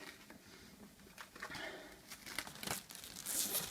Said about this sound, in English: the plastic is really easy to take off